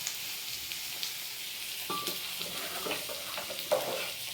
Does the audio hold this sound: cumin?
yes